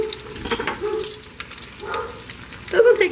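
Empanadas made from leftovers frying in a pan of hot grease at about 350 degrees, a soft steady sizzle with a few brief louder spatters, no talk over it.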